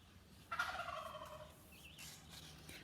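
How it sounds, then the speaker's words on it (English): Real turkeys gobble outdoors, a distant, warbling call rising once then trailing off over a quiet background, with a faint bird chirp afterward. "Did you just hear that gobble, gobble? Those are my neighbors, the turkeys, real turkeys."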